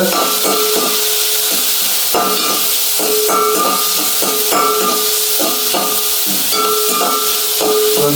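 Onions and chilies sizzle in hot oil in a pan for a Jaffna-style chicken curry, a steady broad hiss with faint stirring and a recurring tonal whine, with no one talking.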